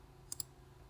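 Two quick, faint computer mouse clicks close together while working on a Windows Server 2016/2019 machine, over a quiet background hum.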